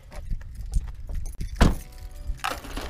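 A bunch of keys jangles close and loud in a couple of short metallic bursts beside a car, with a door-like thump between them.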